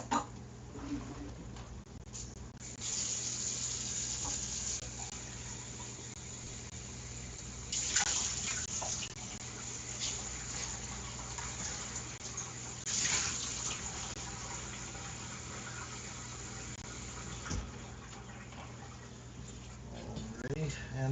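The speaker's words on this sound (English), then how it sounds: "now here we're going to be adding in 275 grams of water." Water poured into a bowl while mixing pizza dough at home, giving a steady splashing wash that runs about fifteen seconds, with a few louder spurts partway through, and a faint background hum underneath.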